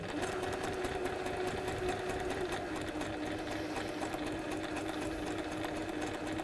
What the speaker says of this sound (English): So we're sewing through the 3 layers, following the line that we've drawn with our template.